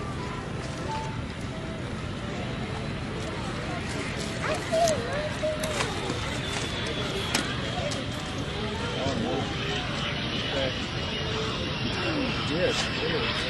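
F-86 Sabre jet landing at an airshow: a broad, steady jet roar with wind-like rushing fills the whole stretch, with crowd noise and voices mixed in beneath.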